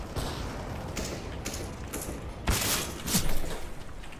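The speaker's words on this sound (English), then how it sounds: "I'm throwing a flashbang." A flashbang grenade going off in Counter-Strike: Global Offensive, heard as a sharp burst partway through a stretch of repeated thumps and game noise, with a second crack following close behind.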